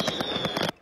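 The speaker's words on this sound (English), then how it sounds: "The first half an hour was nonstop fireworks." Fireworks go off in a rapid run of crackling, booming bursts, loud and dense, then cut off abruptly.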